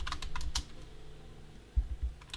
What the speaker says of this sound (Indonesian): Kita coba query lagi, ketik lagi ya